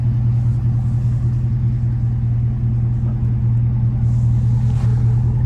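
Tuned 2017 GMC Yukon Denali with a 6.2 liter engine and aftermarket exhaust, giving a steady, deep, close exhaust drone that holds evenly throughout without revving or voices.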